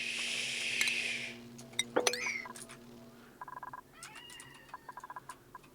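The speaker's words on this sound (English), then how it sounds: "Meow. Meow. I love my cat." A demanding pet cat meows several times up close in short, insistent calls, with a bright hiss and a few light clinks early on and no talking.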